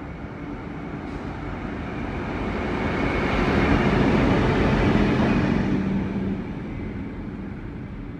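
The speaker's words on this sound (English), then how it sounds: "We now see a train through Heatherdale," A suburban electric train rumbles past Heatherdale station in Melbourne, its steady roar swelling as it draws near and fading as it moves off, with a brief squeal of wheels.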